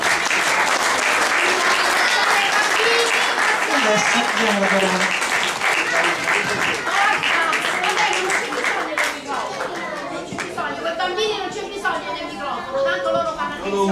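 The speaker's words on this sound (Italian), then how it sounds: "Quindi un grande applauso anche a lei." A large audience at an Italian community gathering in New York claps loudly and continuously, the dense ovation gradually thinning toward the end as voices and chatter rise over the fading applause.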